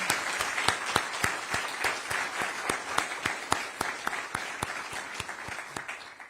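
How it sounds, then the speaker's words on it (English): Audience applause at a 50th anniversary commemoration of the New Jersey Supreme Court's Mount Laurel ruling, steady dense clapping from a crowd with a few sharp, evenly spaced claps standing out close by. "Let's have a round of applause to recognize all these leaders"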